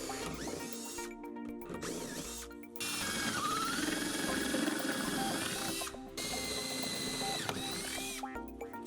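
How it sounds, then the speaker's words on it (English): A power drill with a 5/8 drill bit bores through metal from inside a 1970-1981 Camaro/Firebird during rear suspension installation, whining steadily in several bursts with short pauses, fairly close. "you go to the inside of the car and drill from the other side using a 5/8 drill bit"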